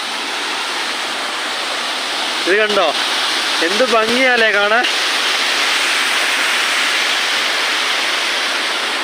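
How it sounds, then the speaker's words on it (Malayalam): Constant rushing water from a small roadside waterfall on the Malakkapara-Valparai route fills the scene, loud and steady, while someone speaks briefly over it. "ഇപ്പോൾ വേറൊരു വെള്ളച്ചാട്ടം കണ്ടേ. ചെറിയൊരു വെള്ളച്ചാട്ടം."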